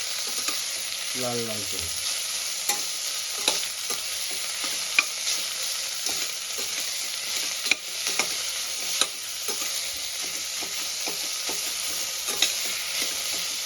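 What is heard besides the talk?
frying chopped onion, green chili and garlic in tempering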